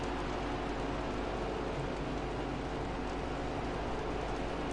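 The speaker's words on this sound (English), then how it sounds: "based on the amount it's raining" Rain falls in a racing video game during a wet pit stop, a steady dense hiss of broadband noise with a low rumble beneath, unchanging throughout.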